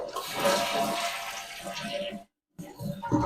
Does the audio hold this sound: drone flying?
no